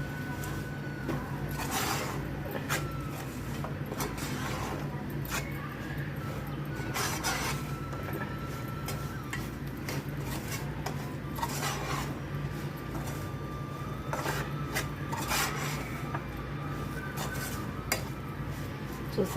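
Spice powder being mixed in a cooking pan for a drumstick fry, spoon scraping and clinking against the metal in irregular bursts over a low background hum, with a voice talking at times.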